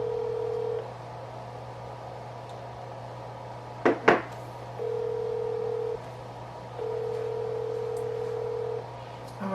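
An outgoing telephone call rings out unanswered, with long steady ring tones separated by pauses over a constant low hum and a brief clatter partway through.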